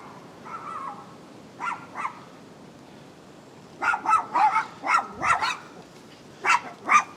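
Dogs bark near a yard where a Hercules 120 amp generator is being worked on, first a few scattered barks, then a rapid run of sharp, fairly close barks with short pauses between bursts.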